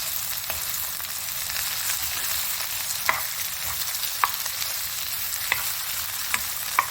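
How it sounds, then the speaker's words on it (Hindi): Boiled potatoes are stirred into onions in a frying pan for samosa filling, giving a continuous sizzle with scattered scraping and tapping from the spoon and no one speaking. "और फिर इसमें ये जो आपने आलू बॉईल किए हुए थे ये डाल देने हैं। ठीक है, और इनको करना है मिक्स।"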